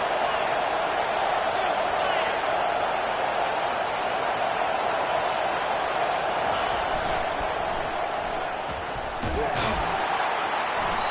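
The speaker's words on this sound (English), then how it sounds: "This crowd bringing the energy and noise early." Stadium crowd noise in the football video game College Football 25: a steady, loud roar of a large crowd holds throughout, with a brief louder burst near the end.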